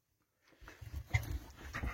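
A dog whines and whimpers in soft, uneven bursts after a brief silence, faint and nearby.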